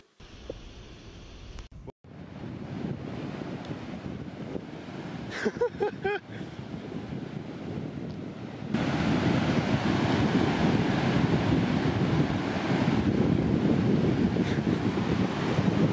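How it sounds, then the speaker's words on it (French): Ocean waves break on a New Zealand shore at low tide in rough surf. A steady roar of surf and wind runs throughout and swells louder in the second half, with brief bumps of handling noise early on. "Il y a trop de vagues"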